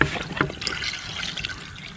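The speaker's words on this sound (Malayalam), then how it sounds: "കുറച്ച് വെള്ളം ഒഴിക്കണം." Water is poured into a cooking pot of taro and beef trotters with crushed green chillies, a short close splashing trickle that fades over two seconds.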